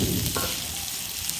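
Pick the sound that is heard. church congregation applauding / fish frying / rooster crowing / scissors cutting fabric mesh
fish frying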